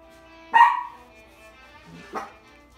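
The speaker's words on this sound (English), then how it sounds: "Sorry, my dog is so noisy." A dog barks twice, one sharp loud bark followed by a softer second bark after a pause, alone in an indoor home setting with no talking.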